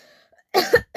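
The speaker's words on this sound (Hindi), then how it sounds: "खाँसी सही में हो रहा है।" A person with a sore, strained throat coughs during a coughing challenge: two sharp, close coughs in quick succession, then a third starting, after near silence.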